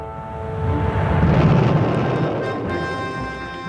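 A massive sustained blast from the destruction of cruise and Pershing missiles, a deep rolling roar that swells and slowly fades, with a faint tonal hum running through it.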